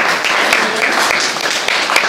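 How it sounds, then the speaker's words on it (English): Dense, continuous clapping from an audience at a Toastmasters club meeting, a short, even burst of many hands with no voices over it. "a big round of applause for you"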